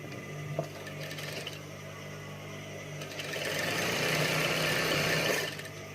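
A sewing machine stitches a mukena prayer garment with a fast, even mechanical whir that grows louder and busier for a couple of seconds in the second half before easing off, heard up close with no talk.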